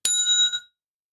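A single bicycle bell rings once, a bright metallic ding with a ringing tone that fades within about half a second, loud and close with nothing else heard.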